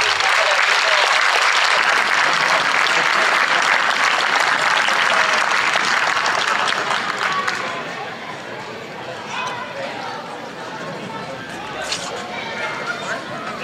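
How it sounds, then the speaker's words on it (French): Loud, dense audience applause honouring René Zuber at a sports awards ceremony, sustained at full strength for about seven seconds before easing to a lighter, scattered patter with some crowd murmur. "on peut l'applaudir bien, bien fort"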